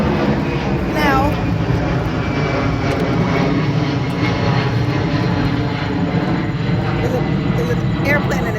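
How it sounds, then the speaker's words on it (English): A loud airplane passes overhead outdoors among trees, its engine roar a dense, steady drone that fills the whole stretch, with a voice speaking beneath it. "there's an airplane and it's loud"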